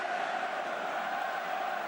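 A Welsh rugby crowd at the 2007 Wales versus Canada match in Nantes gives out a steady, distant roar of cheering and chanting, an unbroken wash of massed voices at even loudness throughout.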